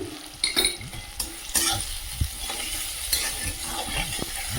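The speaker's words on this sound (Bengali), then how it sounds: "পেঁয়াজটা ভালো করে ভেজে নিয়েছি এরপর দিয়ে দেবো পেস্ট করে রাখা পেঁয়াজ আবারও ভালো করে ভেজে নেব" Onions fry in a pan under a continuous sizzle while a spoon stirs and scrapes, giving irregular metallic clinks and sweeping strokes, close and fairly loud, with no one speaking.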